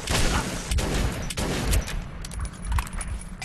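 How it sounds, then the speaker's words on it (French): Gunfire in the video game Metro 2033 crackles in repeated bursts with heavy low booms, dense and continuous throughout, with no voices. "Mais d'où est-ce qu'il me tire dessus?"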